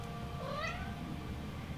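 A cat in the Star Wars Rebels episode "Flight of the Defender" gives a single short, rising meow over a soft background hum, and no one speaks.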